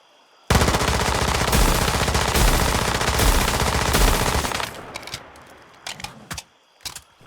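Sustained automatic fire from the PDW90 gun in the video game Once Human: a loud, dense burst of rapid shots for about four seconds, then a few scattered shorter bursts and clicks.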